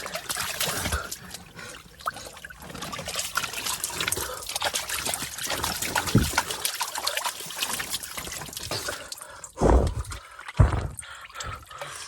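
Water trickles and drips steadily into an underground swimming pool, a continuous close splashing with a couple of louder surges near the end.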